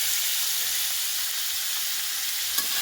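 Pork fries in oil, giving a dense, continuous close sizzle with a faint hiss of steam and no talking.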